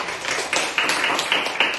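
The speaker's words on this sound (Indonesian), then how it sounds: "Ya, tepuk tangan untuk kelompok 3." Students in a classroom clap briefly for a group, a short run of sharp, uneven hand claps close by, fading between bursts.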